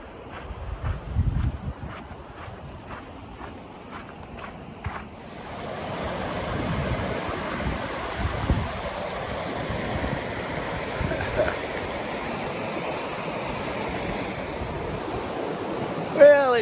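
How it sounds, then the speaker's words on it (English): Holcomb Creek water flows steadily as a broad, continuous rushing wash, fairly loud and close, starting after about five seconds; before that, quieter ambience with soft ticking sounds. "Down below there is the Holcomb Creek"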